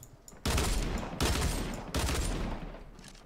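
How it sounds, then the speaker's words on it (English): Dual pistols firing in the Fortnite Battle Royale video game, shown with a chromatic wrap: three loud, close bursts of shots about three quarters of a second apart, each ringing out briefly before the next. "Here's the dual pistols."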